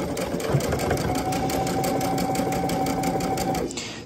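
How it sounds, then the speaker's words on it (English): A sewing machine runs at a steady, fast pace while top stitching a knit neckband, giving a close, loud, even mechanical whir with rapid needle ticks that stops near the end. "I kind of like the look of a top stitch neckline, so that's what I'm going to do now."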